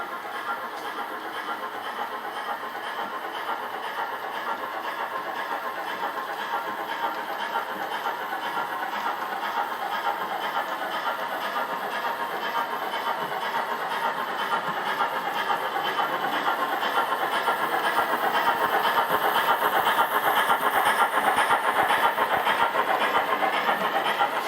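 A scratch-built double O gauge model of steam locomotive 61189 Sir William Gray, on a replacement P4 chassis, runs along a layout. It makes a steady, fairly faint rolling hum and clatter that grows slightly louder as it draws nearer.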